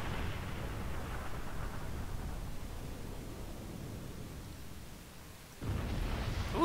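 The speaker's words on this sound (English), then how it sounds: "That was a glorious explosion!" A spaceship blows up in Star Trek Online during a fight with Romulans, a long, loud rumbling blast of broadband noise that trails off slowly before a second burst of roar returns near the end.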